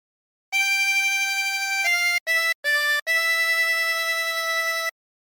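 Home on the Range played on a 24-hole tremolo harmonica, loud sustained reedy notes with a wavering shimmer, a long held tone, then a few short separate notes and another long note, played alone.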